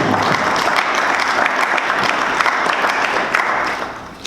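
A church congregation claps loudly and continuously in acclaim of the Lord, a dense, steady wave of applause that fills the room and fades slightly at the end.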